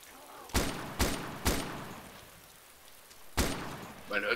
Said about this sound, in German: Man hört das Maschinengewehr.